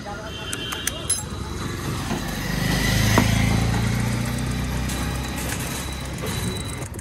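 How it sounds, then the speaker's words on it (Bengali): A GPX Demon motorcycle engine runs at a steady mid-pitched drone, swelling briefly louder in the middle of the stretch, with someone talking over it. "তো এখন বাইক চলেছে"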